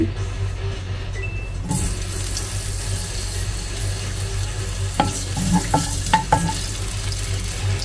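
Garlic frying in a little oil, a continuous close sizzle with a low hum underneath, then a few sharp clinks and taps from a utensil against the pan.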